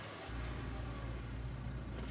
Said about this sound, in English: the truck quickly starts to rumble its way down the dirt road